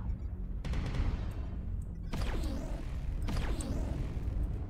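Mech weapons fire in MechWarrior Online, with a Mad-9M mech in battle: a steady rumbling barrage broken by two sharp, sweeping blasts that ring out over continuous low battle noise.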